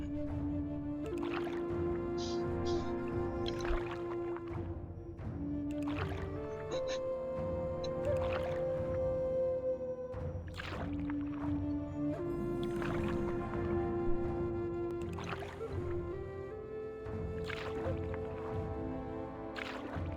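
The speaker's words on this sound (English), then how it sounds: "Tauren paddling a canoe." A Tauren paddles a canoe in World of Warcraft: soft rhythmic paddle strokes and watery splashes, fairly quiet, set against a steady tonal game music bed.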